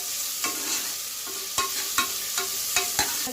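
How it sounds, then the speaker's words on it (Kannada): Onions fry in a pan for matan curry with a steady, bright sizzle, broken by several scraping stirs of a spoon against the pan, close up with no voices. "ಈರುಳ್ಳಿ ಚೆನ್ನಾಗಿ ಫ್ರೈ ಆಗಲಿ"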